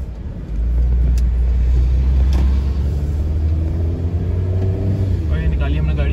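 A car pulls out on a pleasant, cloudy day, its engine rumbling steadily and close throughout, with a voice talking over it.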